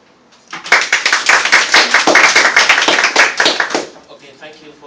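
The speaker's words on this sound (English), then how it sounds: "round of applause." Loud, close applause and clapping from a university debate audience for the opposition team's final speaker, bursting in abruptly, holding strong for about three seconds, then fading quickly.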